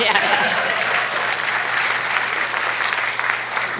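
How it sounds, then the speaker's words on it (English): Town hall crowd in Rutland with a representative claps in agreement, a loud, continuous round of applause from the room that stays strong for several seconds, with voices mingling under it. "Clap if you agree."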